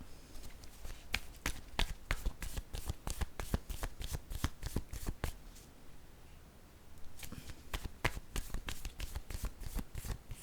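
Tarot cards being shuffled and drawn by hand, a long run of rapid crisp card flicks and riffles, close and clear, with a brief pause midway before the flicking resumes, no voices.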